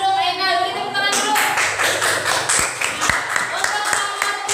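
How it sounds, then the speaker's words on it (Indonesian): Schoolchildren in a classroom clap their hands after a classmate finishes, brief uneven clapping that starts after a voice speaks and runs for a few seconds at close range. "Silakan duduk Aina, beri tepuk tangan dulu."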